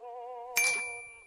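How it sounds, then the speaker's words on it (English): A phone gives a sustained electronic tone, then a bright chime strikes and rings out, fading away. "Is your phone ringing?"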